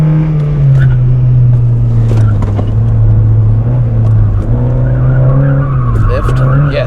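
A GD3 Honda Fit on a road course lifts off the throttle mid-corner, its steady engine drone sagging and the tyres scrubbing, with a voice talking over it.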